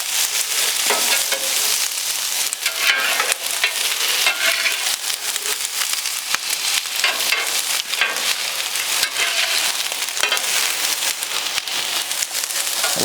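Beer brats sizzle loudly in oil and are shifted around, giving a dense, continuous crackle with frequent scraping clicks as they are moved. It is heard up close, with no talking.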